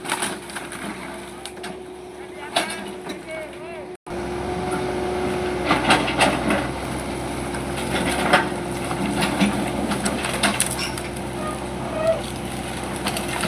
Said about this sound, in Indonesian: dari proses penghancuran bangunan yang berada di tanggul-tanggul Kalimalang atau saluran Tarum Barat